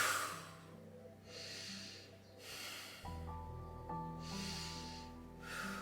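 Slow, deep breaths during a gentle yoga pose: soft airy inhales and exhales in an even rhythm, close and quiet, over faint background music tones.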